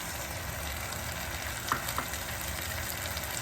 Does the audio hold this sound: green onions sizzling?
yes